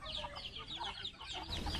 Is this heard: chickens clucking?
yes